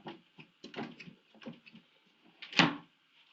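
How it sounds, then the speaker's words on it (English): CGS anti-tip interlocking drawers being pulled open and pushed shut in a cabinet, a series of short close clunks and slides with a louder bang near the end. "So there's the operation of the CGS anti-tip interlock drawer."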